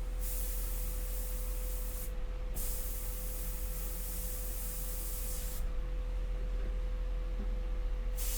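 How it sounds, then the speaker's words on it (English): An airbrush sprays India ink onto paper, a steady close hiss under a low motor hum, cutting out briefly twice as the trigger is released, with no voices. "I am airbrushing about 6 hours a day with this airbrush"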